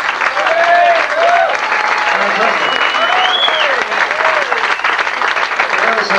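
A dense, sustained wave of audience applause for a youth jazz orchestra at a 1988 televised performance, loud and steady throughout, with a few whistles rising above the clapping.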